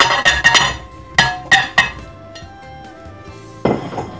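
Cooked potatoes spooned into a bowl for homemade potato salad, a handful of bright clinks and knocks of utensil on dish in quick clusters, close by, with a final clatter.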